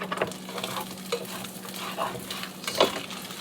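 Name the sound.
scraping skillet after cooking meatballs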